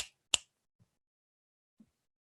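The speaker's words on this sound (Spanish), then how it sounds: "Uno no llama a la gente por chasquidos" Two sharp finger snaps close together at the start, alone in a quiet room, followed by a couple of faint soft knocks.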